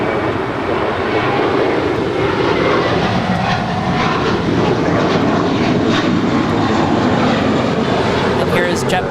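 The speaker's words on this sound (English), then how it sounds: "There's a citation coming in next" A Cessna Citation jet landing at LAX, a loud continuous broadband roar of engines and rushing air filling the whole stretch without letup, with voices faintly under it.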